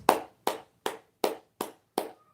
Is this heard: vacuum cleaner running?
no